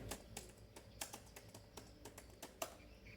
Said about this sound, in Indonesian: Sampai di sini kita ketik seperti ini.